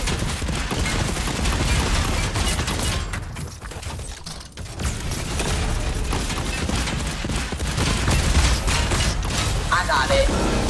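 Gunfire at a mech in the video game Fortnite: a dense, continuous barrage of shots and mechanical clatter with a brief dip in the middle, loud and unbroken, with voices talking over it.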